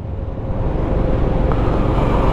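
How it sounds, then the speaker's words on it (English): Royal Enfield Scram 411 motorcycle riding along, its engine and road noise forming a dense, loud, steady low rumble throughout. "don't know if they can hear the engine note and the slightly more throaty sound that you get from the Enfield"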